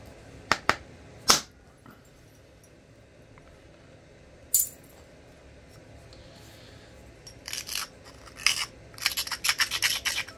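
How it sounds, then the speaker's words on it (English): Crumbly flint is ground against an edge during flint knapping: sharp isolated scrapes early on, then a quiet pause, then a dense run of rapid rasping strokes close by toward the end. "Because this stuff is so crumbly, I have to grind the crap out of it."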